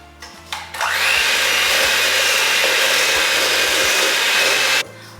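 An electric mixer blends cookie dough after vanilla extract is added, giving a loud, continuous whirring drone with a low rhythmic thumping underneath for about four seconds.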